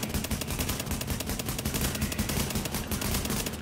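Dense, continuous automatic gunfire in The Division as players unload on a boss, loud rapid bursts layered with overlapping shots and heavy low-end booms throughout.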